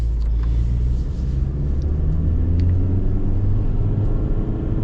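A 2024 Honda CR-V with a 1.5-litre turbo engine and CVT accelerates, heard from inside as a steady, loud low rumble of engine and road noise with no talk.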